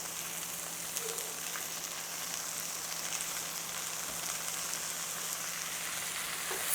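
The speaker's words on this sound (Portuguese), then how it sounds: "Vamos dar uma mexida para ele dar uma refogada" Dedo-de-moça chili and red and yellow bell pepper sizzle steadily in a hot pan, a constant close frying hiss with faint stirring scrapes.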